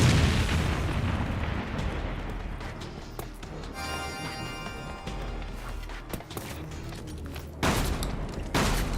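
Grenade explosion in a Resident Evil video game: a loud, booming blast opens and fades into rumbling debris and scattered pops, followed later by a second sharp burst, with no talking.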